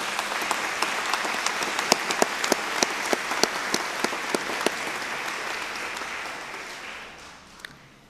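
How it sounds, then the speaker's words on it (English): Audience applause for award winners at a graduate school convocation ceremony, with sharp individual claps standing out over steady crowd clapping that gradually fades near the end. "Round of applause for these winners"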